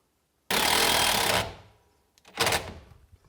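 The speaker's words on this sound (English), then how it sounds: "I'm going to screw this bracket into place just so it doesn't move" A power screwdriver drives a screw to fix a bracket in place on a dust collector: one loud, close, buzzing burst of about a second, then a shorter second burst after a pause.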